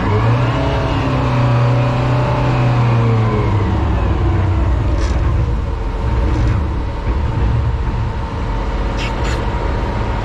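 A pickup truck engine pulling hard in low gear while hauling a World War II crawler crane, a loud, steady droning rumble close by that rises slightly in pitch, with faint clanks in the background.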